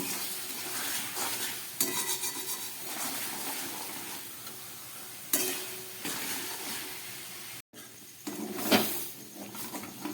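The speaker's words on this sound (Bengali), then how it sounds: "এই জলটা দিয়ে প্রায় দু তিন মিনিটের মতো আমি এটাকে কষিয়ে নেব" Snail masala cooking down with a splash of water in a pan gives a continuous close sizzle, broken by bursts of spoon scraping and clatter as it is stirred, with one brief dropout.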